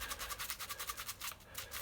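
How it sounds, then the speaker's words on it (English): A toothbrush scrubs the screen washer filters from a BMW 730d in soapy washing-up liquid. Quick, even back-and-forth bristle strokes repeat in a steady rhythm, close and soft, with no talking. "Give them a good brush with a toothbrush."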